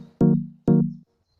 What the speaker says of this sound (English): if you make a minor chord